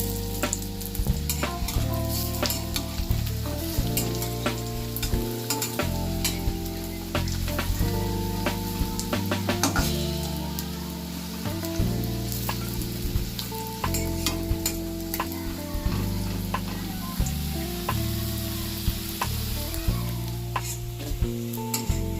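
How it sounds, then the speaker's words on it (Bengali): Crispy fish roe fritters fry in hot oil, a dense steady sizzle and crackle with frequent popping bursts, close and constant throughout, with no voices. "ডিমের বড়া ভাজার জন্য বেশিক্ষণ সময় লাগে না"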